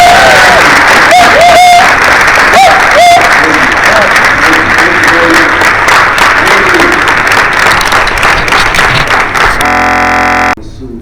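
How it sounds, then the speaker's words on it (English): A conference crowd gives a big round of applause for Sean Combs, loud continuous clapping with scattered cheers and whoops, ending in an abrupt cut near the close. "Give him a big round of applause"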